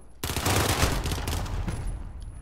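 Dual burst pistols in Call of Duty: Modern Warfare firing a loud, dense run of rapid gunshots that starts abruptly and keeps going, with no talk.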